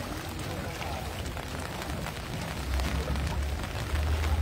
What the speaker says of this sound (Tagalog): At kasalukuyan na rin bumubuhos na rin itong ulan.